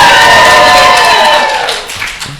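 Studio audience applauding and cheering, a dense burst of clapping and crowd noise that starts loud and fades over about two and a half seconds.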